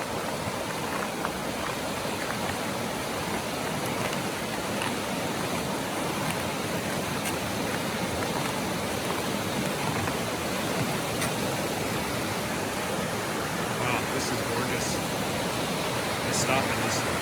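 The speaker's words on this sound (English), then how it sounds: "Got a raging river right beneath us." A raging snowmelt river rushes beneath a footbridge near Tamanawas Falls on a snowy winter hike, a steady, loud broadband roar of churning water that fills the whole span without a break.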